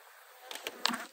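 Honeybees buzzing around an open beehive frame, a soft steady hum with several brief louder passes of individual bees flying close by.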